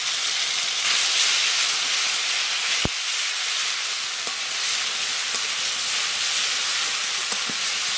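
Ginger, onion, garlic and cumin pastes hiss and sizzle steadily in hot oil in a pan, a continuous bright frying hiss with a few small pops and crackles.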